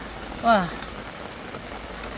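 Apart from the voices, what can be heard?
rain falling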